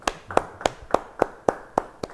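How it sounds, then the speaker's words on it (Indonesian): Congregation at a church Bible study clapping hands in a steady rhythm, about eight sharp, evenly spaced claps over two seconds, moderately close with no talking. "Beri tepuk tangan buat Tuhan."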